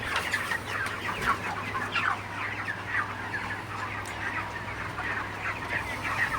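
Broiler chickens on a farm cluck and chatter in a dense, continuous flock chorus, with overlapping calls at moderate distance over a low background hum.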